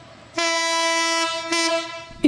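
Train on a reopened railway line in the southern Pool region of Congo, a loud sustained horn blast with rich harmonic tones, briefly dipping and resuming, with a clack at the end and no talking.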